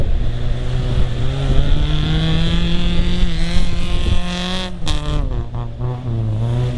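A Lada VAZ 2107 and off-road vehicles rev and accelerate for a run-up on an off-road track, the engines a loud, steady, rising drone close by, with a sharp change in pitch near the end.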